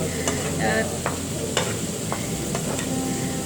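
Chicken liver masala frying in a pan: a steady, close sizzle with repeated scraping stirs of a spoon cutting through it, no voices.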